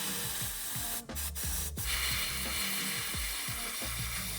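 Spray being applied inside a car to clear broken glass from the HVAC vents, a steady hissing spray running throughout with a few brief gaps, close and fairly loud.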